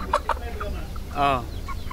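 Basilan native chickens, about two months old, cluck in short soft bursts nearby, followed by a longer drawn-out call, with quiet background noise.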